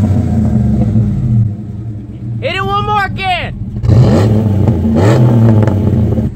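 A supercharged 600hp lifted Black Widow truck engine rumbles steadily and swells into a revving burst near the end, loud and close, with people talking over it and a brief whistle-like shout in between.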